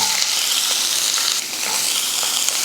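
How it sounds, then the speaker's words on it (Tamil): Mustard seeds, urad dal and onion fry in hot oil for a chow chow poriyal, giving a steady, dense sizzle with faint crackles throughout and no talking. "எண்ணெய் காஞ்சதுமே கொஞ்சம் கடுகு உளுந்து,"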